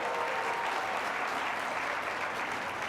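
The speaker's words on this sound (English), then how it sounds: "let's give Bishop Jakes a round of applause" Steady applause from a crowd, dense clapping that holds at an even level throughout without pause.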